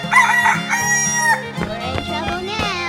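A rooster in a 3D animal sliding game gives a loud cock-a-doodle-doo crow, then a run of sharp, rapid clucks and squawks at close range, with no one speaking.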